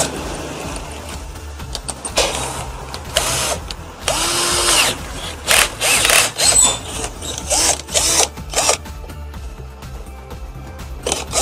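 A power drill backs nuts out while car audio is fitted into an Isuzu, whirring in short bursts with pauses between and faint rubbing and rasping of parts, close and loud.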